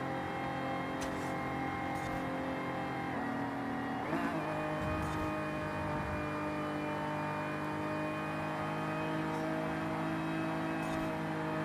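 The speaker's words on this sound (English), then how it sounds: "Loud car, man. This is a modern car." A loud modern car engine in the video game Forza Horizon 5 drones steadily with layered harmonic whine, shifting pitch briefly midway as it revs, constant and close throughout.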